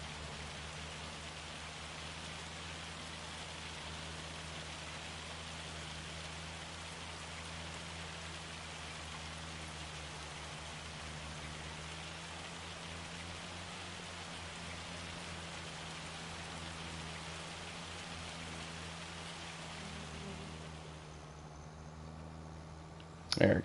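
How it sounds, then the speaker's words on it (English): Steady rain falling in the Farming Simulator 25 game, a dense continuous hiss drumming across the whole stretch, with a low engine-like hum beneath, before easing off near the end. "Dude, how is it still raining?"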